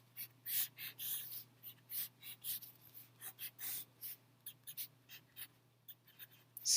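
Pen strokes writing out calculus derivative notes on paper: close, rhythmic bursts of scratching that start and stop repeatedly over a low steady hum, with no talking.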